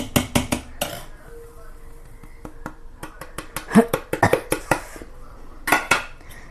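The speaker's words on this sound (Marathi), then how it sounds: "ह्याला मस्त एकत्र करायचं असं फेटून" Ground whole mung bean batter being beaten in a bowl, with a utensil clattering against the dish in several quick bursts of close scraping and tapping, separated by short pauses.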